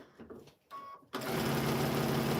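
After some quiet handling noise, a sewing machine starts up and runs steadily at a fast, even hum while stitching the last seam of a quilt made from orphan blocks, close and loud with no talking.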